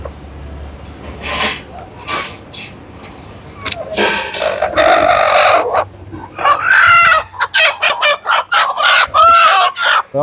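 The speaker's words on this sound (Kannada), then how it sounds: "ಸೌಂಡು ನಾಟಿ ಕೋಳಿ" Native country chickens crow and cluck close by, a long rooster crow followed by rapid, loud bursts of clucking and squawks, with a person's voice briefly mixed in.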